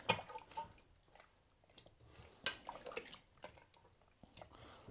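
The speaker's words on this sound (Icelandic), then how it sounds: "Þá er bara málið að fara að henda vatn út í þetta." Warm water is poured and splashed into seitan dough in a mixing bowl, making faint, intermittent sloshing and dripping bursts against a quiet background.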